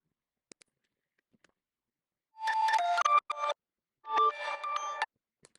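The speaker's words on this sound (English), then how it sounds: "Now I do have a chime sound up here." A chopped-up chime sound in an Ableton 12 electronic track plays two bursts of bright, stuttering metallic tones with abrupt cuts between fragments, clear and alone.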